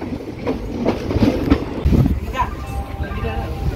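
An Intercity Superfast Express train pulling out from platform 1 at Ichchapuram station rumbles steadily with rhythmic clatter of the wheels and carriages, close by, while people talk over the noise.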